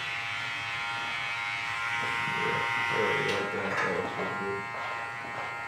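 An electric trimmer buzzes steadily through a thick beard up close, a constant droning hum with slight shifts as it moves, while a voice murmurs underneath.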